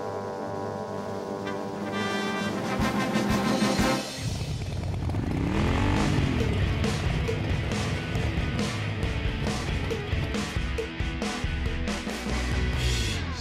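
A custom motorcycle engine rumbles loudly up close, with a droning, steady roar that rises as it pulls up; no talking.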